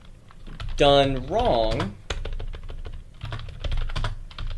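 Rapid clicking keystrokes on a cheap ten-dollar Walmart computer keyboard, steady and close, with a voice speaking briefly over the start.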